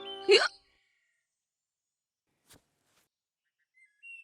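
A child gives one sharp hiccup at the start, followed by a faint second hiccup a couple of seconds later amid near silence, with a soft chirp at the end.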